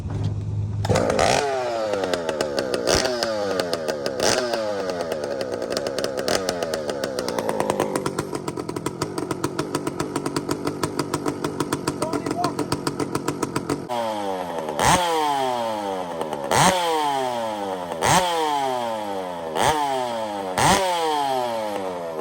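A small cold engine sputters and catches, idling unevenly with rapid firing pulses while warming up, then rises in a series of repeated revving bursts, loud and close.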